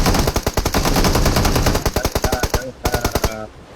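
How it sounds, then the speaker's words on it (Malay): Rapid bursts of automatic machine gun fire from a shooting video game, loud and close, with a steady rattling rhythm broken by a short pause before a final burst. "Apa yang kau tembak?"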